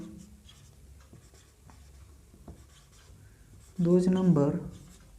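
Pen or marker writing out a maths definition for a class 9 lesson, soft scratchy strokes throughout, with a brief voice near the end.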